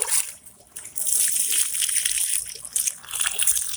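Water pours and trickles onto garden plants in compost and fertilizer beds, a steady hissing splash close by that briefly dips before continuing.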